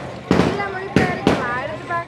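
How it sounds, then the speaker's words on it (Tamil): Firecrackers burst during St. Anthony's church festival procession in Pasaiyur, Jaffna: three loud, sharp bangs come in quick succession over crowd noise and voices. "அந்த தேர் போய் அந்த வெடிச்சத்தங்கள் இன்னுமே போகல."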